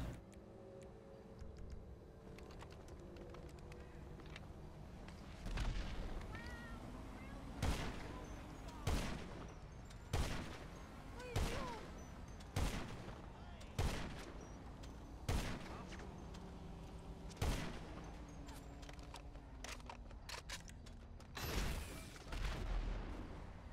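Video game gunfire cracks out in a regular series of sharp, loud single shots, roughly one every second or so, with quieter shooting and engine-like rumble in between.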